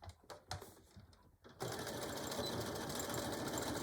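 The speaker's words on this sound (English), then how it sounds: "we will give it that little fancy top stitch" A sewing machine runs steadily, sewing a decorative top stitch on a beach or diaper bag. The motor whirs loudly and evenly after a short stretch of quiet handling noises.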